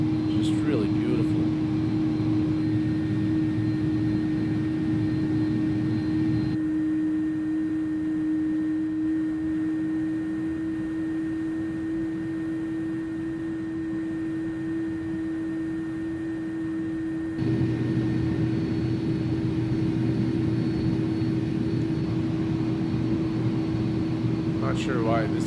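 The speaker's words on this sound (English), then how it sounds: "Man, listen to those engine sounds. Just really beautiful." Airbus A310 jet engines in the X-Plane 11 flight simulator hum with a steady loud drone and a sustained whining tone, shifting slightly in texture partway through, continuous for the whole stretch.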